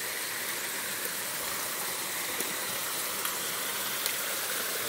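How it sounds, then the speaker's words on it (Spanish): Forest waterfalls pour in a steady, continuous broadband rush of falling water, loud and even throughout with no voices. "Qué cascadas tan bonitas"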